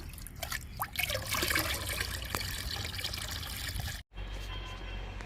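Homemade liquid fertilizer of lentils, chickpea husk, tea powder and egg powder is poured from a container onto fruit plants, a steady splashing trickle that runs on, briefly stops, then resumes.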